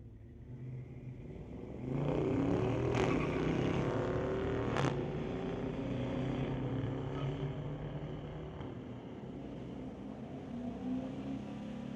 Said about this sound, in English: 1981 Chevy Camaro Z28 going up against a 2022 Challenger